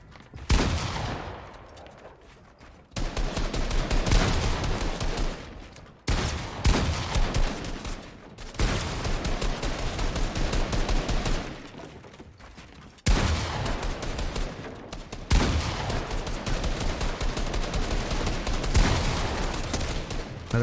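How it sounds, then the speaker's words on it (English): Assault rifle fire in a Fortnite boxfight, with loud sustained automatic bursts in repeated long runs separated by short quieter gaps, close and heavy with no voices. "The AR beam's coming as well."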